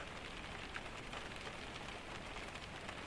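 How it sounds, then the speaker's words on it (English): Steady rain falls on a surface, a dense even patter with occasional distinct drops, continuous and moderately close. "The rain continued."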